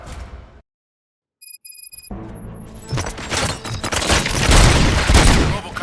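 Loud, dense burst of rapid gunfire and booms in the video game Robocop: Rogue City after a moment of silence and a few electronic beeps, building into a chaotic, continuous barrage.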